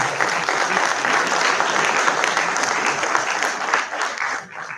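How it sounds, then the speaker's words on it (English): An audience at an IMI Bhubaneswar institute event claps steadily in a dense, loud burst of applause that carries on for several seconds before fading slightly at the end. "Please clap."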